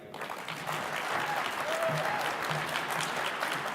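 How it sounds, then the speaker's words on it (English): Steady applause from a large conference audience welcoming a keynote speaker to the stage, dense clapping that holds at an even level throughout with no voices standing out. "It always gives me enormous pleasure to welcome to the stage a round of applause for Allan Leahy."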